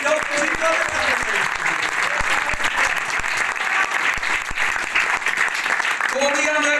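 Loud, sustained applause from a church youth gathering, dense clapping throughout with a voice speaking over it at the start and end.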